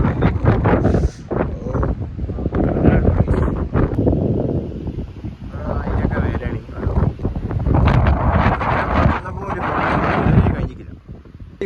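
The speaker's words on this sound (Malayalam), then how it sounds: "നല്ല കാറ്റും ഉണ്ട്" Strong gusts in Ooty buffet the microphone in loud, uneven roaring bursts, with people talking faintly underneath.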